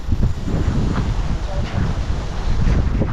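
Strong wind buffeting outdoors on hot, sunny farm grounds while cooking preparations go on, a continuous rumbling gusty roar that swells and eases, loud and close with some talk over it.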